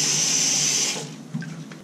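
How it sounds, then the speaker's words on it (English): Running tap water rinses ferric chloride off an etched metal plate, a steady close splashing stream that cuts off partway, followed by a few small drips and handling noises. "Let's rinse that off."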